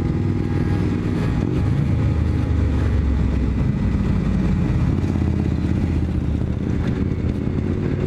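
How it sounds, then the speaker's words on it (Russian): Moped engine heard while riding through the streets of Berlin, a loud continuous droning motor with slight rises and falls in pitch and wind rumble, close and steady for several seconds, without speech. "Ну, классный мопед."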